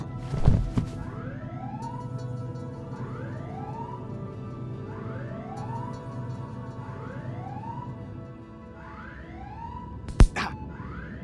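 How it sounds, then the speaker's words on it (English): Spaceship alarms in an audio drama blare as a repeating rising electronic whoop, cycling steadily over a low rumbling hum; a couple of sharp clanks punctuate the start and the end, and no one speaks. "I'm hearing the alarms just as much as you are"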